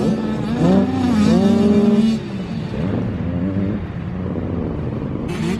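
A Yamaha YZ65 dirt bike accelerates around a track, its small engine revving up and down in rising, wavering bursts. The sound is fairly close and fades a little as the bike moves away, with no talking.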